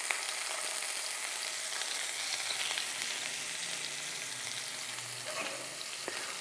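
Prawns frying in a pan give off a steady, close sizzle that barely changes, with faint stirring scrapes near the end and no voices.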